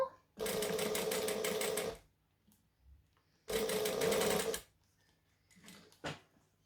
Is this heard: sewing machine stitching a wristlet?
yes